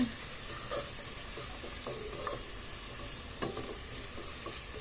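Meat cooks down in a pot with oil, giving a steady low sizzle broken by scattered scraping and knocking as it is stirred, close and fairly quiet.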